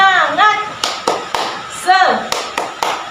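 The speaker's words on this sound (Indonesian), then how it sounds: "kita tepuk semangat dulu ya supaya kita tetap semangat" A rhythmic clapping chant closes an Indonesian classroom lesson, with sharp hand claps landing in a patterned beat between sung or chanted words from a voice.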